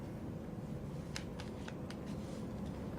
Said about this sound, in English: Please shuffle the cards.